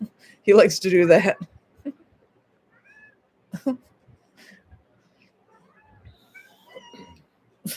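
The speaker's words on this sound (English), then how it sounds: "meowing at his toy mouse" A cat meows at a toy mouse with a loud, close burst of drawn-out meows, followed by quieter scattered sounds and a brief spoken remark.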